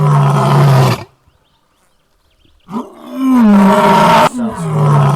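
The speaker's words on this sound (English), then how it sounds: "if fed a picture of a tiger, ImageBind could retrieve its roars" Tiger roars, two loud close bellowing calls separated by a short silence, the second long and drawn out with a rising, growling tail.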